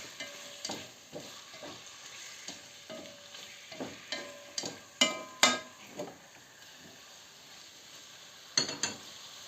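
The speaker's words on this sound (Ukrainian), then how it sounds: "Я разом з цибулькою його підсмажу." Chicken fillet and onion frying together in a pan, a soft sizzle broken by a regular series of spatula scrapes and knocks, a few louder clatters midway and near the end; no speech.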